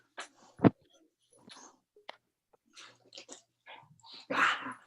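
A dog chews and crunches close by, with a few scattered bites and snuffles between quiet stretches, and brief soft talk from a person nearby.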